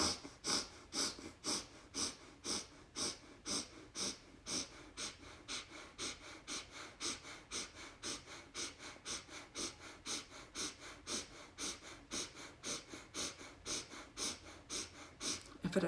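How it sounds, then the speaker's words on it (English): Rapid, even breathing in and out through the nose during a timed breathing exercise, a steady rhythm of sharp, close, forceful breaths that continues alone throughout with no talk. "an even inhale and exhale through the nose, or if you're really plugged up, you can do it through your mouth"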